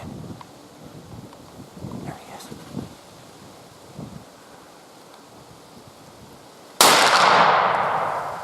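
A single loud rifle shot fired at a deer during deer season cracks out suddenly and then rolls away into a long fading echo, after a stretch of quiet outdoor rustling and wind.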